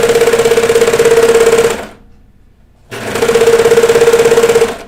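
A home sewing machine stitches the inseam of a pair of kid's pajama shorts, running in a loud, steady mechanical whir that stops for about a second and then resumes for another run.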